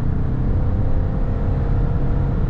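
A 2022 Hyundai Staria van's engine revs steadily under acceleration around 4,000 rpm, a loud continuous drone with whirring, heard close from inside the cabin.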